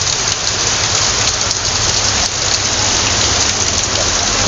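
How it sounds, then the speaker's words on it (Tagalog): Heavy, unbroken rain pours down steadily on a flooding village road, a dense loud hiss with scattered drop impacts throughout and no voices. "kusog sa ulan nga walay undang"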